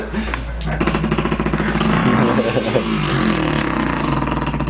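A voice imitates a Volkswagen engine, producing a close, buzzing mouth rumble that rises into a sustained revving drone and holds steady to the end.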